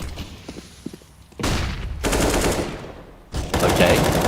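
Rapid automatic gunfire from a Counter-Strike esports match, loud bursts of rifle shots crackling in dense volleys with brief gaps between them, while a commentator speaks over the action.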